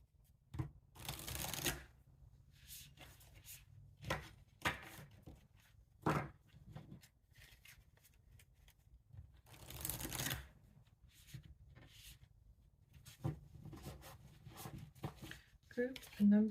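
Oracle cards are shuffled in several quick, crisp bursts of riffling and slapping, separated by quiet gaps, with a voice speaking softly at times.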